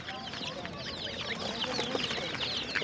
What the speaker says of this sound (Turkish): Bıldırcın ötüşünü duyduk.